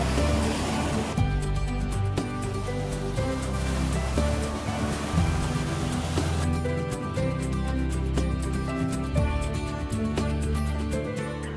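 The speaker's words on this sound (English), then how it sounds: "As you can hear by the crashing waves behind me, we're at the beach." Ocean surf breaking steadily on an Outer Banks beach in North Carolina, a continuous loud wash of waves with a deep rumbling roar throughout, no voices.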